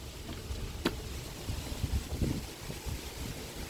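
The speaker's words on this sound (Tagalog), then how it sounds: "Ang lakas ng hangin" Strong wind blows outdoors on a hot day, a steady close roar of buffeting gusts against the microphone with a few knocks and thumps.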